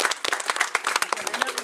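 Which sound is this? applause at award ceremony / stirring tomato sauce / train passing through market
applause at award ceremony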